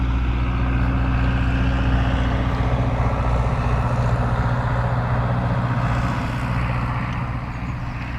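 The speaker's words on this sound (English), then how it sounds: "We just let the tractor pass." A tractor's engine drones loudly and steadily as it passes close by, the low rumble holding for several seconds before easing off slightly at the end.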